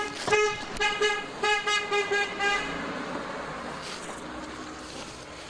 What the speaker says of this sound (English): Here comes car